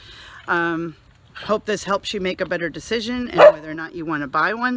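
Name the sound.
friend's dog barking in the background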